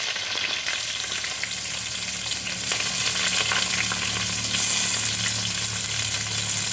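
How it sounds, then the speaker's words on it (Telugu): Onions frying in a pan, a loud, unbroken crackling sizzle heard up close with light stirring scrapes woven through, no talking over it. "ఇవి బాగా వేగాలండి."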